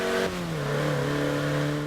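A car engine revs steadily in the racing game Forza Horizon 4. It is a close, continuous mid-range drone whose pitch sags slightly and then holds even, with no talk over it.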